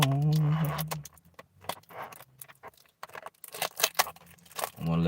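Keys jangle in a quick run of metallic jingles and clinks, close and fairly loud, between stretches of a voice speaking at the start and end.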